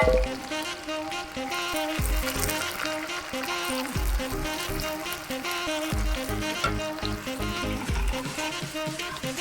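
Onions frying in a pan until reddish, with a dense, continuous sizzle and crackle, close and fairly loud, broken by occasional thuds and stirring noises, no one talking.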